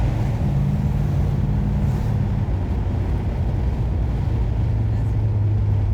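A classic car engine idles steadily at close range, its low droning hum running continuously with a slight change in pitch partway through.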